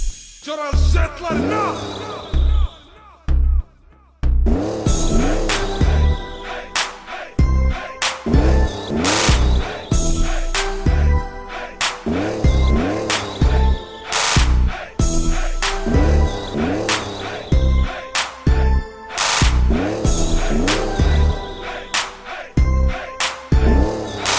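Go-karts race at a national karting championship held in a stadium in Senegal, their engines buzzing and whining as they pass in repeated loud waves, rising and falling with sharp revving under occasional commentary.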